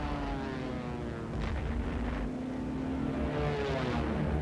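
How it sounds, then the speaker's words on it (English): Engines of German bombers in a wartime newsreel drone steadily, a dense continuous roar with a broad low hum that swells slightly around the midpoint and stays loud throughout, with no talk. "German bombers attacked English ports"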